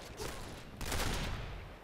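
Gunfire in the shooting video game Point Blank, a quick burst of sharp shots followed by a louder, denser volley that fills the short stretch, with no talk.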